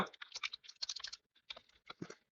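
Data being typed into an Excel spreadsheet on a computer keyboard, with quick, uneven bursts of close, crisp keystrokes and short pauses between them.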